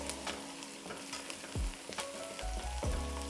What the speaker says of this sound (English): you need to give them a quick stir every now and then